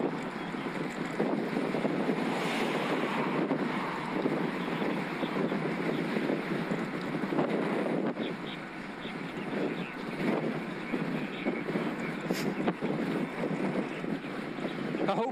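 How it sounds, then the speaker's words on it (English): Strong crosswind buffeting the microphone during a road ride on a Scott Addict RC e-bike near Sutton Common, a loud, constant roaring gust noise that never lets up, with a rider speaking under it. "that crosswind is shaking me up a bit."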